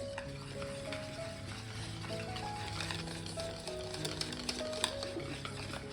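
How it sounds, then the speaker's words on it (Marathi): Khaman dhokla batter whisked smooth in a bowl, a steady soft scraping and slapping churn that runs throughout alone at low level, with faint kitchen clinks. "आता याच्यामध्ये फक्त हे मी मिक्स करून घेणार आहे गाठी न होता ना छान असं मिक्स करते"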